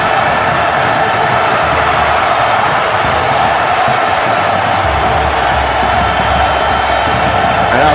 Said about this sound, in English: this crowd here with the Cristiano chants once again